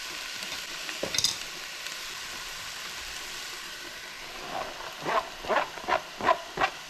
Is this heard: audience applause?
no